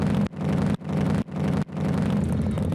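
A voice imitates a snowmobile race in Quebec on stage, producing a loud buzzing engine-like drone in four pulses separated by short breaths.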